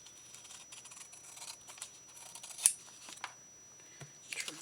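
Quiet, scattered snips and crisp paper rustles from scissors trimming die-cut paper for a card at close range, with a few sharper cuts near the middle and end.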